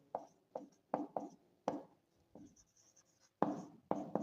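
Pen or pencil writing math on paper, a series of short scratchy strokes in bursts with brief pauses, close and fairly quiet, no talking.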